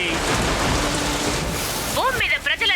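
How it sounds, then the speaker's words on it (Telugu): Cartoon rain pours down in a dense, steady hiss with a low rumble, then a voice cuts in briefly near the end over the falling rain. "వర్షాలు కురిపించాయి"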